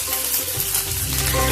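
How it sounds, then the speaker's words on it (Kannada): Crushed green chillies drop into hot oil in a kadai for Andhra-style chilli chicken, giving a loud, close, continuous sizzle and crackle. "ಸೊ ಇದರಲ್ಲಿ ನಾವೇನಿದು ಜಜ್ಕೊಂಡಿದ್ವಲ್ಲ ಈ ಮೆಣಸಿನ್ಕಾಯಿನೆಲ್ಲ ಹಾಕೊಂಡ್ಬಿಡುವ"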